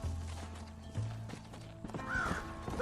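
Horse hooves clip-clop at a trot in a Red Dead Redemption video game, quiet rhythmic thuds with a brief whinny near the end under soft background ambience.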